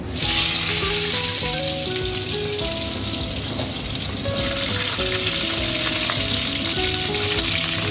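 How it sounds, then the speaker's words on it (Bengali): Potatoes and cauliflower frying together in hot oil, a loud continuous sizzle with crackling bubbles close up, steady throughout with occasional stirring, alongside a faint tonal hum. "খিচুড়িতে আলু আর ফুলকপি দেব তাই আলু আর ফুলকপি একসাথে ভেজে নেব"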